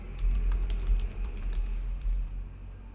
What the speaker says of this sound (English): If I bring up a console window, if I type in the commands git clone